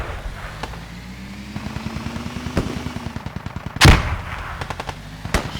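Gunfire from a technical vehicle in a multiplayer war video game, a rapid rhythmic burst of shots over an engine drone, with a louder sharp blast partway through and a few more scattered single shots after.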